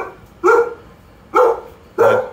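A pet dog barks three times in loud, close, separate bursts, each a sharp woof with a short tail, spaced roughly a second apart over quiet background.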